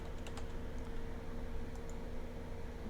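Soft typing on a computer keyboard while entering a login name and password, faint, irregular key clicks over a steady low hum, with no talking.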